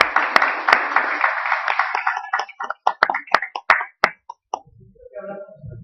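A church congregation bursts into loud, dense applause that thins into scattered individual claps and then dies away, with a few quiet sounds trailing at the end.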